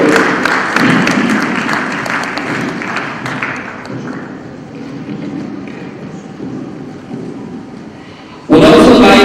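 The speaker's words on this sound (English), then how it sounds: "A round of applause for him as he comes forward." Audience applause at a policy launch event as a guest walks to the platform, dense clapping that gradually thins and fades, then cuts to a sudden loud burst of sound at the end.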